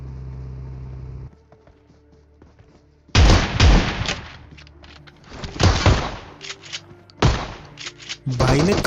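Kar98 rifle fire in PUBG Mobile: after a quiet stretch, a few loud, sharp, booming shots ring out with separate reports and tails, mixed with game sounds.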